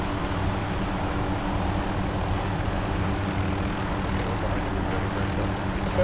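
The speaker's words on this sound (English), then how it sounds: "Bravo 3 is lifting off." A helicopter lifts off in the military game Arma 2, its steady, dense rotor and engine roar filling the scene at constant loudness with no voices.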